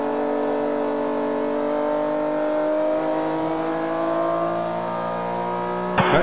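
A 1968 Porsche race car's engine drones loud and steady at Rennsport Reunion, its pitch climbing through a long acceleration before a sharp burst at the end, with other racing engines close behind.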